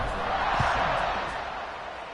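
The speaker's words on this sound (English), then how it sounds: "this crowd now ready to get behind them" A stadium crowd roars in the College Football 26 video game during a South Florida at Florida matchup, a dense sustained wash of cheering beneath a commentator's speech.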